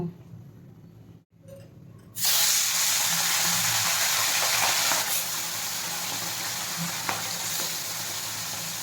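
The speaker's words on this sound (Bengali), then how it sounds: "সর্ষের তেল দিয়েছি এবার আমি মাছগুলোকে ভেজে নেব" Mourala fish fry in hot mustard oil in a wok: after a quieter moment, a loud, close, continuous sizzle bursts in and holds steady, with faint clinks of handling.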